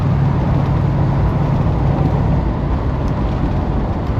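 A Pontiac Grand LeMans on its first drive after years off the road, with a noted backfire under heavy throttle, gives a steady, loud cabin drone of engine and road noise, unbroken and with no speech.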